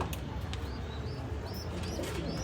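Fancy pigeons, including Red Lahori pigeons kept alongside love birds and cockatiels, coo softly in low repeated notes beneath a steady background hiss, with a few thin chirps overhead.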